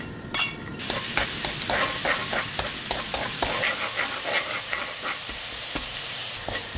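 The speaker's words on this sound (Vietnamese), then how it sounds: "Cho lượng tỏi còn lại vào phi với lửa nhỏ nè." Garlic fries in two tablespoons of oil in a pan over low heat, a close steady sizzle with light scraping and stirring taps at irregular intervals, no talking.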